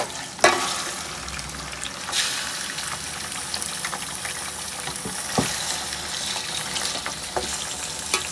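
Meat browns in a pan with bay leaf and garam masala, a steady close sizzle and hiss broken by sharp scraping stir strokes at irregular intervals.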